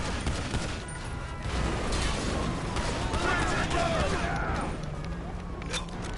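A steady, loud fusillade of gunshots in GTA 5, sustained rapid fire filling the whole moment with distant and near cracks blending together, while voices talk over the shooting.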